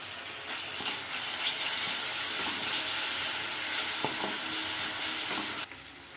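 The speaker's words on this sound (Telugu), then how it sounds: "తర్వాత కొంచెం అల్లం వెల్లుల్లి పేస్ట్, పచ్చిమిర్చి, పసుపు వేసుకోవాలండి" Ginger garlic paste, green chilli and turmeric frying in a pan for an egg curry with broad beans, a steady loud sizzle with scattered stirring scrapes that drops off sharply near the end.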